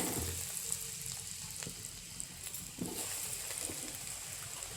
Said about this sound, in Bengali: যেগুলো বাকি আছে ওগুলো গরম তেলের মধ্যে এক এক করে আমি ছেড়ে দেব।